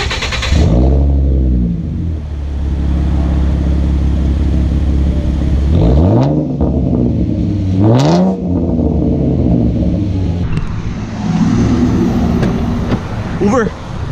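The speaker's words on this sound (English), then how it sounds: "I don't know if y'all can hear the idle. It sounds pretty good. It sounds pretty deep actually." A car fitted with BBK shorty headers idles with a deep, steady low rumble. The engine swells briefly a couple of times, and people talk over it throughout.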